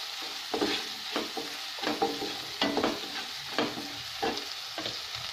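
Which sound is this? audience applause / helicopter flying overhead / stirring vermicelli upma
stirring vermicelli upma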